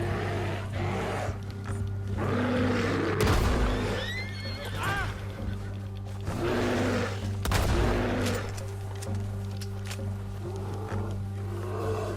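In the Red Dead Redemption 2 video game, a horse neighs and whinnies in loud, shaky bursts over a rumbling storm backdrop, with hoof clops and rustling between the calls.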